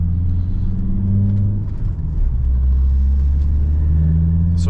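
A Volvo V70 fitted with a new J&R driveshaft drives along, giving a steady rumbling engine and road drone from inside the car that swells slightly as it accelerates.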